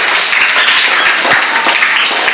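A group of fourth-class schoolchildren clap together in a burst of steady, dense applause, loud and close, with no talk over it.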